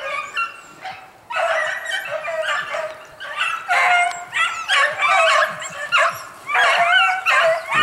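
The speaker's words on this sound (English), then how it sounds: "Here come the dogs." Several hounds bay and yip in excited bursts while chasing along a track, a continuous chorus of overlapping barks and whimpers at moderate distance.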